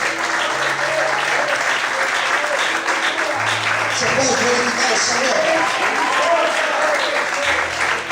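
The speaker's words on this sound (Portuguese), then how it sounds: "Você pode aplaudir ao Senhor essa noite?" A church congregation applauds through an evening service, a dense, steady wash of clapping that fills the whole stretch while a voice speaks over it.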